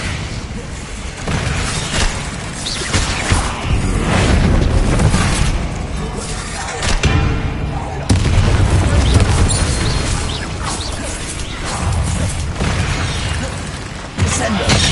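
Spell blasts from Hogwarts Legacy combat, with loud repeated booms, bursts and shattering impacts landing one after another in a dense, continuous barrage close up.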